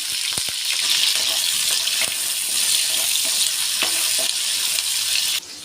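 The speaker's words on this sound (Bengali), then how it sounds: "এবার দিলাম ফোড়ন পেঁয়াজ কাঁচা লঙ্কা দিলাম" Tempering spices, chopped onion and green chili frying in very hot oil in a kadai, a loud steady sizzle with a few clicks of stirring throughout, dropping off sharply at the very end.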